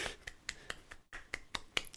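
Hand clapping at a steady pace, about nine sharp claps close to the microphone with a brief gap in the middle, otherwise quiet.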